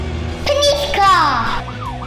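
A police car siren wails in a sweeping rising-and-falling tone, loud and close, with a voice speaking alongside it.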